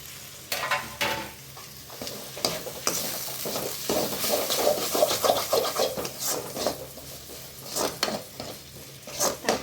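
Tomatoes sautéing in a pan for thengai paal sadham, with close, steady sizzling and frequent scraping stirs of a spatula across the pan, no voices.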